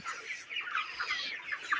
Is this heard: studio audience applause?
no